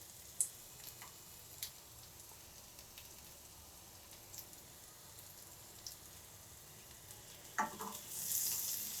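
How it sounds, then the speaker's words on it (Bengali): Chopped onion with two large garlic cloves fries in a pan, a faint, steady sizzle with a few soft clinks and stirring scrapes, growing louder near the end. "তো এভাবে করে আমি পেঁয়াজ আর রসুনটাকে ভেজে নিলাম"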